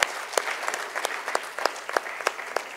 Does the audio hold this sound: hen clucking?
no